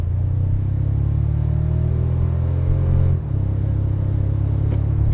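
A Toyota Tacoma's 2.4L I-Force turbo engine pulls hard under acceleration, a steady loud low drone with rising harmonics and a brief dip near the three-second mark as it shifts.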